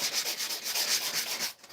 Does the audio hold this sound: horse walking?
no